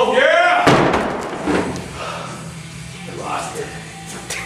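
A 360 lb atlas stone drops and lands with one heavy thud in a strongman training session, loud and close, followed by shouting voices and gym noise.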